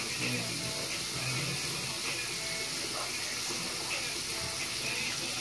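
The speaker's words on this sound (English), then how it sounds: "I'm just waiting till the water get warm." Tap water runs steadily into a sink as it is left to warm up, a continuous broadband rush with no pauses for the whole stretch, moderately loud and close.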